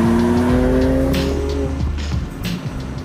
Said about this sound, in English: take in all the sounds of the engine